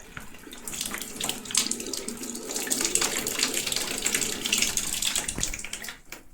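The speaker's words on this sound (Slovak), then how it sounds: "a nečistoty preplachneme vodou." Tap water runs steadily over a removed filter housing being rinsed of debris in a sink, a close hissing splash with small clatters and shifts as it is handled, no talk.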